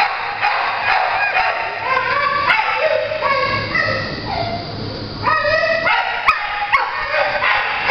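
Dogs at a shelter bark and yip in repeated bursts, with rising whines and whimpers between them, close and fairly loud with overlapping voices throughout.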